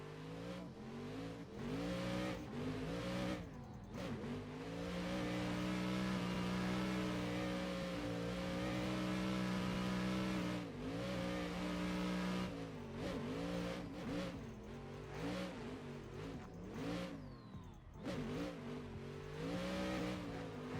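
Race car engine in a racing video game revving hard and continuously for about twenty seconds, with steady harmonic drone, rising and falling pitch through gear changes, and brief dips where the throttle lifts, loud and close with no talk.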